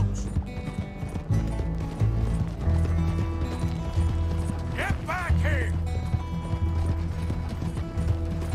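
A horse galloping in the video game Red Dead Redemption 2, with steady rhythmic hoofbeats and creaking tack under game music, plus a brief whinny in the middle.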